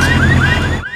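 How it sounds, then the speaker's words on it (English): A cartoon hovercraft arrives with a loud, continuous rising-and-falling electronic whoop, repeating about five times in a second before cutting off abruptly, with no talking over it. "Here is Grampy Rabbit on his hovercraft."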